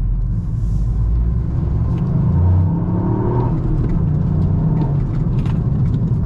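A stock Toyota Yaris GR with 261 horsepower, its engine running as a steady, loud low rumble with a slight swell midway, with no voices over it.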